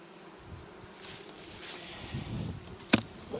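Bees buzzing around hives set among flowering buckwheat, a soft, steady hum in the open air with a sharp click near the end.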